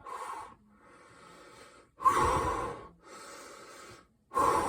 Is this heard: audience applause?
no